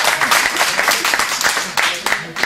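Members of a business networking club applaud in a meeting room, a short round of moderate clapping with an uneven rhythm, and voices talking over it.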